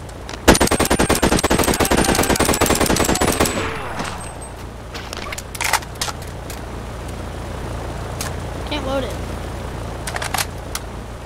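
An AK rifle in the VR shooter Boneworks fires a rapid full-auto burst for about three seconds, loud and close; afterward people talk over scattered clatter and handling noises.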